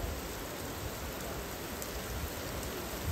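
Heavy rain pours down steadily at night near a petrol pump, making a dense, even hiss with no voices. It sounds fairly distant and soft overall.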